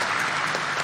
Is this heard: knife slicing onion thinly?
no